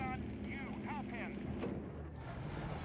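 Vehicle engines rumbling in the video game Company of Heroes 3, set at the Fall of Tobruk, a low continuous drone beneath a short voice line and faint wind.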